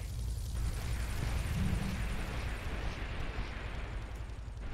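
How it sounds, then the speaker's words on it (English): Rocket launcher explosion in the video game GTA 3, a sustained dense roaring rumble with heavy low-end that stays loud throughout. "I need to run and get this rocket launcher and blow her out of the fucking sky"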